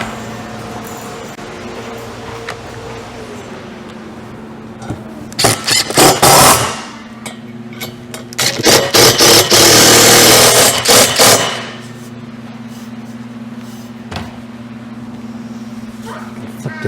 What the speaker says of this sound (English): we should just be able to grab our drill and those screws